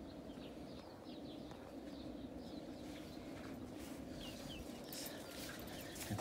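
Pet chickens, a Peruvian cross Brazilian among them, cluck and murmur softly in a yard, faint scattered calls over a low steady background hum.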